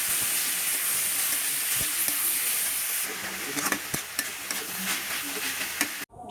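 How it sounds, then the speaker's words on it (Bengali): Onion and garlic fry in oil in a home kitchen pan while greens are stirred in, giving a steady close sizzling hiss with scraping stir strokes, the hiss easing slightly partway through before a brief cut at the end. "পেঁয়াজটা ভাজা ভাজা করে নিব, তারপর শাকটা ঢেলে দিব। ঢেলে ভালোভাবে নেড়ে চেড়ে নিব।"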